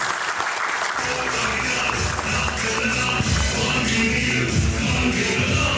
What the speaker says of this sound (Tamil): உங்கள் பலமான கைத்தட்டல்களோடு